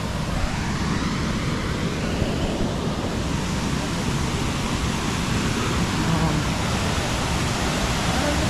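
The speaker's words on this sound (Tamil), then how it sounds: "பா, எவ்வளோ தண்ணி வருது! சரியான ஃபோர்ஸ்" Courtallam waterfall in flood, water gushing down with great force in a loud, dense, unbroken roar close by, with people talking under it.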